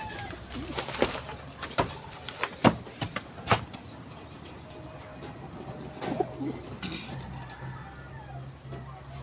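Soft pigeon coos under a noisy outdoor background, with a few sharp clicks and knocks scattered through the first half.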